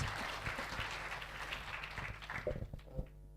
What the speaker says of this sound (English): Give round applause for Professor Hatfield.